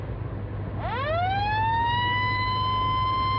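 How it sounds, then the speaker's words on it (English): An emergency vehicle siren bursts on loudly after a short lull and settles into a steady, sustained wail, near and clear over low engine rumble. "Come on, hit that siren."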